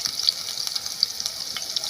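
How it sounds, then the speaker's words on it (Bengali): Chopped onion stalks hiss and crackle as they fry in hot oil, a steady close sizzle with small pops scattered through it and no voices. "ওই পেঁয়াজ কলিগুলোকে ছোটো ছোটো করে কেটে ওই তেলের মধ্যে দিয়ে দিলাম"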